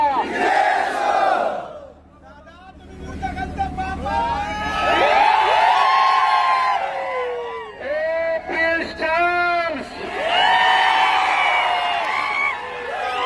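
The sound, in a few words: cheering crowd at Pandharpur victory celebration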